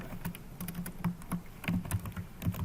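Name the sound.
typing code on a computer keyboard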